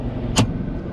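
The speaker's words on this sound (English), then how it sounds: "Why don't we slow down, let this motorcycle pass?" A faster motorcycle overtaking nearby, its engine a steady low rumble with a brief whoosh as it goes by.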